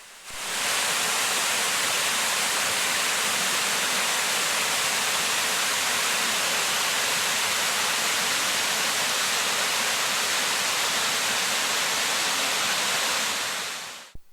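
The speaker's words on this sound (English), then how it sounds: "Chapel Falls is a beautiful 60-foot waterfall" A steady, roaring rush of falling water from the 60-foot Chapel Falls in Michigan's Upper Peninsula fills the whole span, loud and unbroken, like a large waterfall heard from close by.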